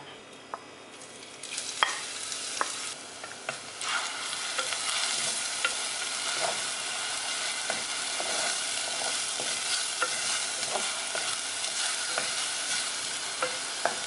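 Crushed spice mix dropped into hot coconut oil for a Kerala squid roast sizzles steadily. A loud frying hiss runs throughout, broken by sharp scraping clicks of a spoon stirring the pan.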